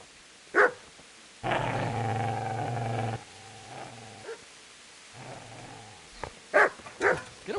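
A dog in the medieval game Kingdom Come Deliverance gives a sustained close growl, then shorter growling bursts and a few sharp barks, alone with no talk.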